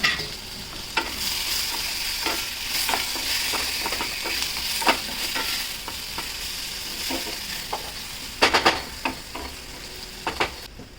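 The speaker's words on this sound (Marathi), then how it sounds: "बटाटा टाकून चांगला परतून घ्यायचा." Diced potatoes frying with dill and garlic in a pan, a continuous sizzle broken by repeated scraping stirs of a spoon, with a cluster of sharper clatters toward the end, close up and without talk.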